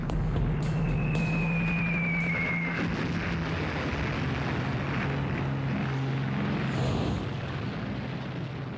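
Stuka dive bomber aircraft approaching, a loud roaring rumble with a rising whine, dense and sustained before easing off toward the end.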